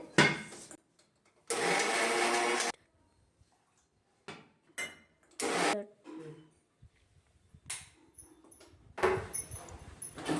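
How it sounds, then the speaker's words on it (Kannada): A kitchen mixer grinder blends tomato chutney in several loud whirring bursts, each starting and stopping abruptly, with quiet gaps and small clatters in between. "ಆಯ್ತಿದ್ದು ಈ ರೀತಿ ನುಣ್ಣಗೆ ರುಬ್ಕೋಬೇಕು"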